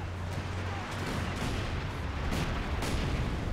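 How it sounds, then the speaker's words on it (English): A light artillery barrage in Company of Heroes 2 sounds as a rapid series of heavy, booming shell impacts and gunfire, several distinct blasts over a continuous battle rumble. "Light artillery barrage."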